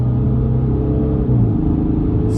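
Mercedes CLS 350 engine accelerating on kick down on a motorway, a loud steady low rumble from inside the cabin that rises slightly as the car pulls, with no talking.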